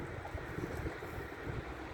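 Steady ocean surf and a slight breeze at a beach by a tiki hut, a broad, even wash that carries through the whole stretch with faint wind rumble and no voices.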